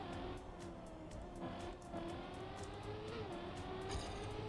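Car engine revving steadily while driving in the video game Trackmania, a continuous buzzing drone rising and falling in pitch, moderately loud, with rapid gear-shift changes and no speech.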